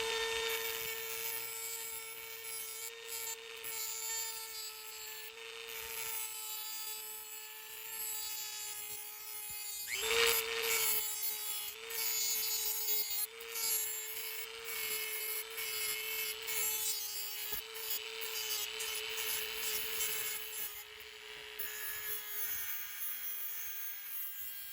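Small handheld grinder cutting a model part for a custom build, a continuous close high whine with gritty rubbing texture, holding steady throughout with a brief louder burst near the middle.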